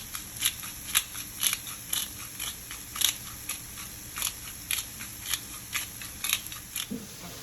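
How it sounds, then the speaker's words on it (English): A pepper grinder cracks black pepper over mushrooms in a cast iron pan, giving a series of sharp, crunchy grinding clicks in a regular rhythm, close and distinct against a low background hiss. "I am going to crack a little black pepper on over these"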